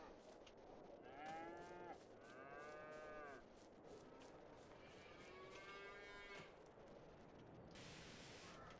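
A cow in the farming game Farming Simulator 22 moos several times in a row, long drawn-out calls of moderate loudness over a hissy, static-filled background.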